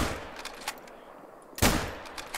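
Sharp synthetic gunshots from the hunting game theHunter: Call of the Wild, a few scattered shots followed by one louder blast partway through, no talking.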